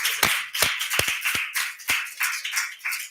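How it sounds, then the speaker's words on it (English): A small round of applause from a panel audience, sparse separate claps spread over a few seconds, close and moderately loud, no talking. "we actually do a small round of physical applause for our panel"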